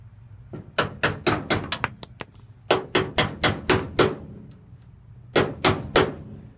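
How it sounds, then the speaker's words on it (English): Steel chisel hammered into the rusty door hinge pocket of a 1956 GMC truck: three bursts of sharp, loud metallic blows, about six to eight strikes each in quick rhythm, with pauses between. "And what I'll do is take the chisel."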